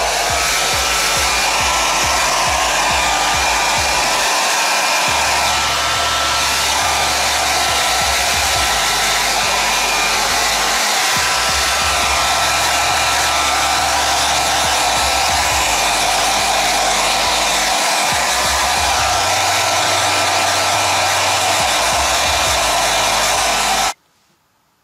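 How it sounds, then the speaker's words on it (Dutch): A hair dryer blows hot air over a painted memorial stone for a dog. It makes a loud, constant whooshing drone with slight wavering for the whole stretch, then cuts off abruptly at the very end. "Toch nog maar even de föhn erop."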